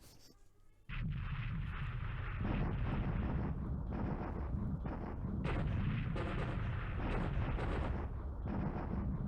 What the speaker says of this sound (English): This is just one bombing raid.